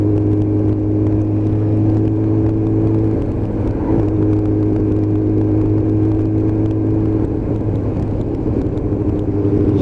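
A group of motorcycles, one a ZSX-F, rides out together on a Sunday, their engines blending into a steady, loud rumbling drone that holds throughout with no talk.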